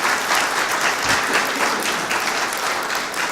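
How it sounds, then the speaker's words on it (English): Conference audience clapping for the event staff, a full, loud burst of applause from many people that holds steady from start to finish. "And I think they deserve a clap for that."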